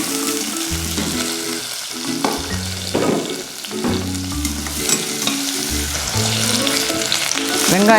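Onions sauté in a pan with cardamom, cinnamon and bay leaf for tomato rice, making a loud continuous sizzle punctuated by repeated rhythmic stirring scrapes and clanks.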